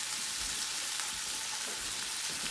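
Scallops sear in a hot pan in a steady, close, crackling sizzle that holds even throughout, with no one talking over it.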